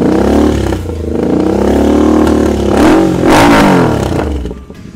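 A small motorcycle engine revs up past 4,000 RPM, loud and close, its pitch rising and falling in several sweeping surges before settling back toward idle.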